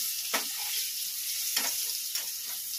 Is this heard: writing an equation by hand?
no